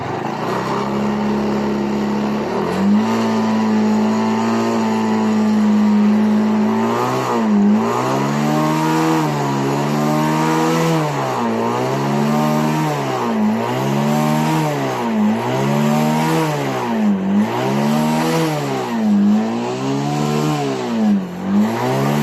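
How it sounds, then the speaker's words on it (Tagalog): A Skygo Hero 125 motorcycle engine idles loudly up close, then is revved in a regular series of rising and falling throttle blips, roughly every two seconds, with no talking. "nag-ooperate ang kanyang engine. So, try natin pa guys"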